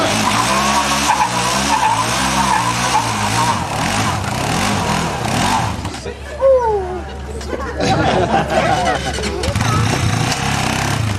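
Car wheels spin and tires screech as a drag race gets under way at a Horsham event, with engines revving loudly before a sharp skid squeal, under shouting and excited voices from onlookers.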